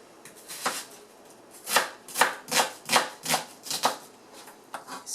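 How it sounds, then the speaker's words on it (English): Knife slicing through an onion on a cutting board, about a dozen crisp, fairly evenly spaced cuts with brief pauses, close and clear against a quiet kitchen, no voices. "I'm going to slice the onion."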